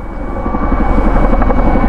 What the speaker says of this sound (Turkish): Tam tepemizde bir tane yangın söndürme helikopteri.